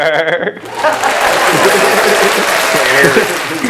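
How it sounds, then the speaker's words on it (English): A recorded applause effect comes in after a brief moment of talk, a dense, continuous burst of clapping that fills the rest of the moment at a loud, steady level. "Play the applause."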